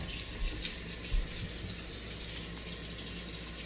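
Water runs from a tap into a sink just after a drain repair, a steady close splashing gush that lasts the whole clip with only small surges and no voices.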